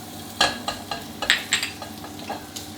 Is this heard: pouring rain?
no